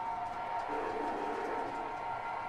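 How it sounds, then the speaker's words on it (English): Scale model train boxcars rattle along the track, giving a continuous, fairly loud clattering racket with no clear breaks. "noise boxcars making a heck of a racket"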